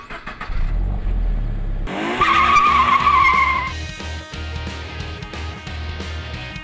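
A 2013 Toyota GT86 sports coupe, built with Subaru, drives hard: a loud tire squeal rises at about two seconds and holds for over a second over steady engine roar, then the engine note carries on alone.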